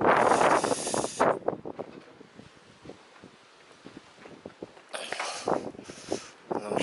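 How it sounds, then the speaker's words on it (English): Strong wind gusts buffet the microphone around a corner of St. Paul's Church, with a loud roaring burst at the start, a calmer stretch of faint rustle, then another hard gust near the end. "It's really windy around this corner."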